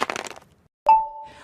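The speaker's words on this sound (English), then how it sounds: "That's the intern Dale, cracking ice for a soda." Ice for a soda crackles in a short burst of brittle snaps, then one sharp crack rings out with a lingering glassy tone that slowly fades.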